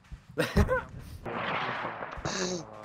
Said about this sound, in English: I don't know where this mortar going.